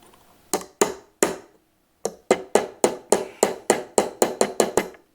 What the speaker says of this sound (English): I'm going to use a little brass hammer here and just kind of